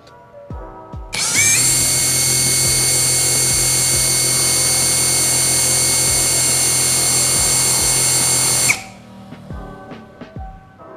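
BITEC BIW R3250-NC impact wrench running free at its large speed setting, a loud steady high-pitched whine starting abruptly, holding for about seven seconds, then cutting off with a thump and spinning down.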